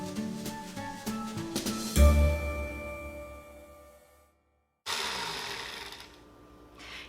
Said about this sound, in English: Blend that up until it's liquefied.